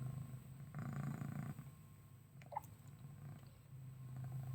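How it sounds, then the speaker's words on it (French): A cat purrs softly and steadily at close range, a low continuous rumble with no talking over it. "Beau chat, oh oui."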